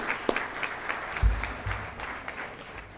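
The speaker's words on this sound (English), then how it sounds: "If you give Moira a round of applause." Brief round of applause at a volunteer recognition dinner welcoming a new director, a modest scattering of claps with a few sharper hits, fairly soft and thinning out over a few seconds.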